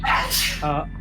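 A single sharp sneeze bursts out close by amid speech, followed by a brief voiced tail, all within about a second.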